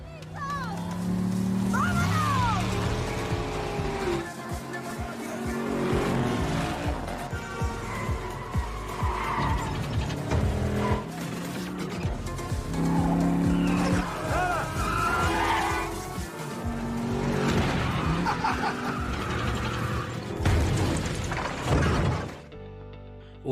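Racing cars roar and skid through a street race, engines revving hard with squealing tires and a buzzing small-engine whine, loud and continuous with crashes and shifting gears, under talk.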